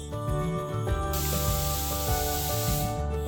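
A loud, steady hiss of steam rushes from a pressure cooker cooking dal, rising sharply partway through and continuing over low background hum and clatter.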